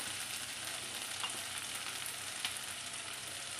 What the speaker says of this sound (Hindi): गाइस, इसको बस हमने 1 से 2 मिनट फ्राई करना है।